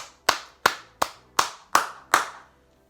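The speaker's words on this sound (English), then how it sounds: "going to have to clap for her" Six sharp hand claps in a slow, even rhythm, close and loud, each one ringing out briefly before the next, with no other sound.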